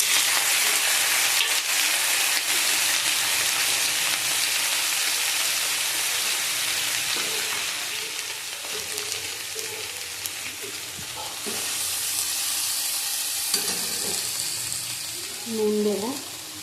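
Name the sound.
radish greens frying in a pan with dried chilli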